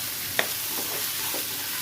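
A utensil scrapes and stirs through thick beans and coconut curry in a pan, with a sharp clink near the start and soft repeated scraping over a steady sizzle.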